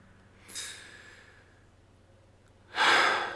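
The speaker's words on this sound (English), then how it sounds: "Clanging against the stone, heavy breathing, scrambling on rock." Two heavy, breathy exhalations while climbing rock, about two seconds apart, the second louder and closer, with quiet background in between.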